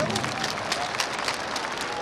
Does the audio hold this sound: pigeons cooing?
no